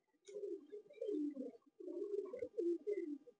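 A Malwai pigeon gives soft, low, rolling coos in two close phrases, quiet and alone.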